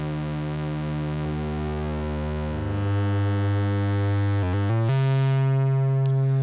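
An electric guitar runs through a Boss Blues Driver overdrive, sustaining a thick, distorted chord that shifts pitch midway and ends with a few quick muted strums before ringing on, loud and alone.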